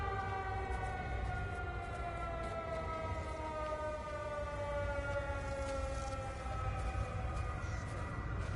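A steady, wailing civil-defense-style siren in the game Everybody's Gone To The Rapture, its tones drifting slowly in pitch and sounding continuously throughout with no pauses.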